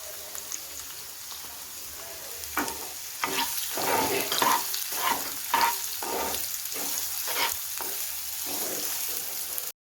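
Onions fry in a pan of oil for Marathi kande pohe, sizzling steadily up close as rhythmic spatula strokes scrape and stir through them, with no talk.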